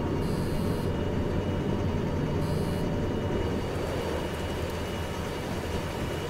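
A locomotive in the Derail Valley train simulator runs steadily as it builds speed, a continuous broadband rumble and hiss with a faint high whine, heard alone without talk.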